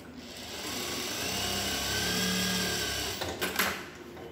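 A Japanese industrial sewing machine, model DDL-900B, running with a steady mechanical whir that swells slightly and then winds down, followed by a few brief clicks and knocks, with no talking.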